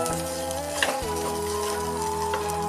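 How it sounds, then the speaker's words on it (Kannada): Chana dal, dal and grated coconut fry in a pan with a steady close sizzle and a brief stir around the one-second mark. "ಇವೆಲ್ಲ ಒಂದು ಸ್ವಲ್ಪ ಫ್ರೈ ಆದರೆ ಸಾಕು."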